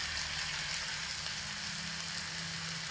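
Chopped tomato fries with potatoes in a pan, giving a soft, steady sizzle that stays even and quiet throughout, with no talk.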